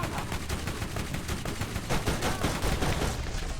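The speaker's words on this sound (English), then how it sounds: "Who's shooting me?" Rapid automatic gunfire in Borderlands, a steady run of close, loud shots in quick rhythm that continues throughout without any voices.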